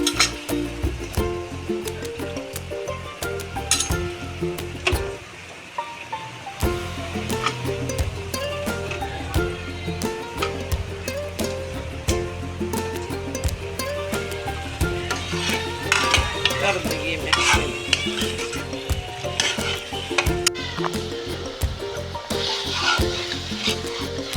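Potatoes sizzle in a pan for aloo matar, with repeated metallic scrapes and clinks of a spoon stirring against the pan close up, continuing steadily for the whole stretch without talking.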